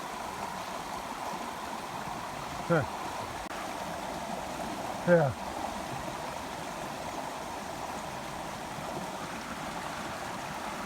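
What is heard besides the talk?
flood water flowing over a log in a pasture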